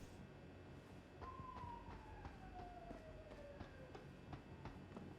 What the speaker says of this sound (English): I'm pretty sure that was a police siren now.